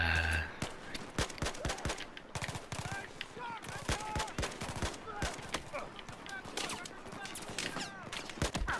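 Rapid bursts of automatic gunfire from the Battlefield 4 campaign, loud, close, and dense, running nearly nonstop with short gaps, while a voice talks over the shooting.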